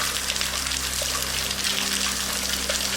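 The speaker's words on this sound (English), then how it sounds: "Look at that water pouring in," Water pours and trickles steadily into an abandoned theater building at a former resort, a constant broadband splashing wash with a low hum beneath, continuous and fairly loud with no one speaking.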